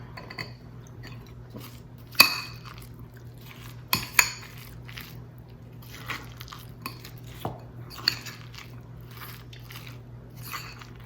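Chopped apples and cranberries dropped into a bowl of chicken salad, with a couple of sharp clinks of utensil against the dish and soft scattered taps and rustles over a steady low hum.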